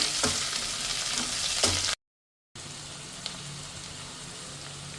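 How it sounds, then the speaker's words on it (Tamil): Chopped onion and curry leaves fry in hot oil for an enna kathirikai brinjal dish, giving a steady, close crackling sizzle with a couple of stirring scrapes, briefly cut by a moment of total silence. "இந்த வெங்காயம் நல்லா ஃப்ரை ஆகணும், நல்லா மொரிகிற மாதிரி ஃப்ரை ஆகணும்."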